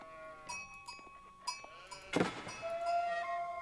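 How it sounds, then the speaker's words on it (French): Sheep bleat several times in Age of Empires 4, a mix of short calls and a longer wavering cry, alongside game sound effects with a sharp burst near the middle. The calls are fairly near and there is no talk. "Alors déjà pourquoi il y a autant de moutons sur ce chemin?"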